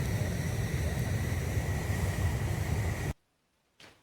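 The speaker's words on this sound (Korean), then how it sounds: "웅장한 물소리 들리시죠?" Water released from a hydroelectric dam makes a loud, steady, rushing roar that cuts off abruptly after about three seconds, followed by a short burst of noise near the end.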